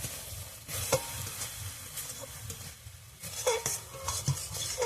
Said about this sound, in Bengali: মশলাটাকে ভালো করে এইভাবে কষিয়ে নেব